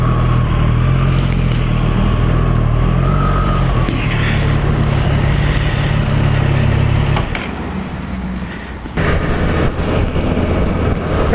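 A Triumph motorcycle with an orange warning light on is ridden along a road, giving a loud, continuous engine drone with heavy wind rush. The sound dips briefly near the end, then surges back.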